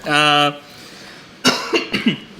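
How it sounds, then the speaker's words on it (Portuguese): A single long, voiced cough-like sound, then a short pause and a quick burst of rough throat noises and coughing, close up. "todo dia esse horário eu começo a tossir, não sei porquê"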